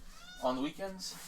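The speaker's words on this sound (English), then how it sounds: "And that's my cat, who's super needy," A needy pet cat lets out a short meow in a home, overlapping with someone talking.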